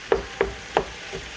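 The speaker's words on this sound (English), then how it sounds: "Just chopping down some of those bigger pieces of turkey meat" A knife chops pieces of turkey meat in a frying pan, making four soft, evenly spaced thuds close by in a quiet kitchen.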